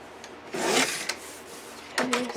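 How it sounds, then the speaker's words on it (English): Paper being trimmed to size for a handmade mini album, two short rasping cutting strokes, close and fairly loud, separated by a quiet pause. "So we're going to trim this piece down to 7 3/8,"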